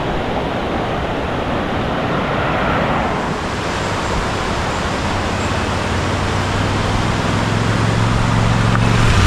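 A monsoon-swollen river near Morgiri rushes past in a dense, steady roar of flowing water, loud and close with no pauses, and no voices over it.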